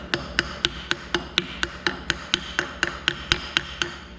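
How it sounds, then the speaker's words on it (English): A rawhide mallet gives a bent metal piece a steady run of light, evenly spaced taps, about four per second, crisp and close with a faint ringing after each strike. "I can make it even sharper by taking the rawhide mallet"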